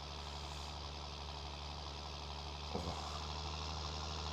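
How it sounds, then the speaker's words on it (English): A small tractor straining uphill with a full tanker in Farming Simulator 19, its engine a steady, droning mid-pitched rumble at constant load, with one brief knock partway through. "this little tractor is great at doing most things, these hills with this tanker, full tanker on it, it is not a fan of"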